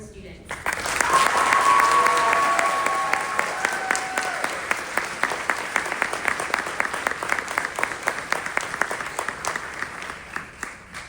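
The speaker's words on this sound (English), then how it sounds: "Let's give one more round of applause for these incredible students." Audience applause for graduating teacher preparation students at a fall pinning ceremony, a dense, sustained wash of clapping that swells early then thins toward the end, with distinct claps standing out and a voice briefly over it.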